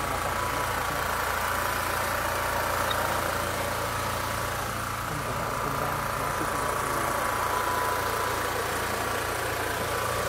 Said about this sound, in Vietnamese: Và như mọi người có thể nghe thấy là cái âm thanh của máy phát điện